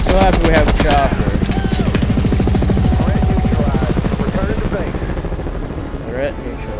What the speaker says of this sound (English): So happy we have a chopper.